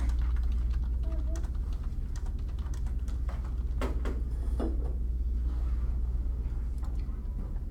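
Fingers tap on a computer keyboard in a quiet room with a steady low hum, the clicks coming in scattered short bursts, and a person speaks briefly.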